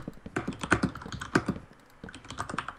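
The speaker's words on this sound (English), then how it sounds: "just typing and I can hear it really loudly" Typing on a computer keyboard during a Minecraft gaming session, a close, fairly loud run of rapid clattering keystrokes in uneven bursts with a short pause, no speech.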